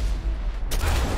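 A single sharp gunshot cracks out about two-thirds of the way through, with a bright burst and short tail over low rumbling background noise, fired during a skydiving game.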